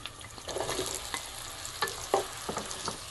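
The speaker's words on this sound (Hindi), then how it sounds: "अब हम इसमें तेल गरम होने के बाद डालेंगे प्याज। अब हम डालेंगे बैंगन।" Onion and eggplant frying in hot oil in a pan, a close, steady crackling sizzle with several sharp scraping stirs of a spoon, no voices present.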